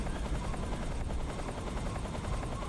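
A helicopter in the Metal Gear Solid 3: Snake Eater video game gives a steady, dense rotor thrum with fast rhythmic chopping, loud and continuous, with no voices over it.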